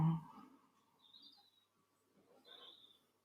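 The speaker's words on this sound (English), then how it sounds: "I can hear bird song" A few soft bird chirps and short whistled calls, faint and distant, in an otherwise quiet space.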